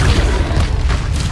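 A fiery blast from the Incendio spell cast in Hogwarts Legacy, a single loud, close whoosh-boom with crackling burst, heard alone without speech.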